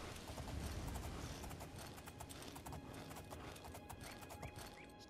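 Horse hooves gallop in the video game The Elder Scrolls IV: Oblivion, a fast, steady clip-clop rhythm that runs throughout at moderate, fairly close level, with no talk over it.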